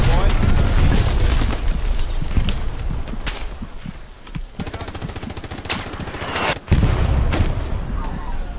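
Heavy gunfire in the WWII shooter Hell Let Loose, with dense machine-gun bursts and rifle shots hammering close and loud for the whole stretch, easing briefly before another sharp crack and renewed firing, with voices talking over it.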